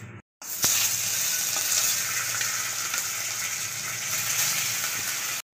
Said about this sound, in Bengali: এই একইভাবে আমি বাকি মাছগুলোও ভেজে নেব